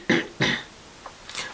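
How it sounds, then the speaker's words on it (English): Someone close by clears their throat twice in short raspy bursts, then only a few faint small sounds follow. "Let me clear my throat."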